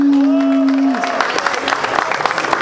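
Rap battle audience at Roda Cultural da Rocinha erupting in cheers and clapping after a held shout, a loud mass of crowd noise with scattered claps and whoops continuing to the end.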